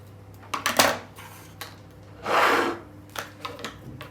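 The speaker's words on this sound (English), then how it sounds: "I'm gonna show you how you can cut it with scissors." Several short crisp snips and a longer rasping cut with scissors through thin edible silk fabric, close by, with small handling noises between.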